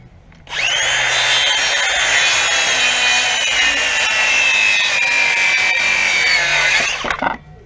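Power saw cutting timber rafters for a timber-frame carport, one loud continuous whining cut of about six and a half seconds that ends abruptly, with no talk.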